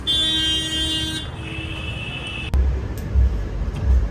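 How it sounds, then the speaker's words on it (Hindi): A car horn on a convertible Thar under repair honks in a long steady blare that drops in pitch, then stops, followed by low thuds and handling noise. "एक हॉर्न ठीक है एक खराब हो गया"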